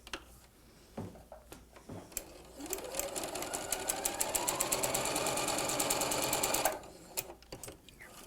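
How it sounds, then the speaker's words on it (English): A sewing machine stitches a 1/4 inch quilting seam joining fabric squares, a steady fast mechanical whir and rapid needle ticking for about four seconds, close and clear, with scattered clicks of handling before and after. "I'm going to put a 1/4 inch seam in this."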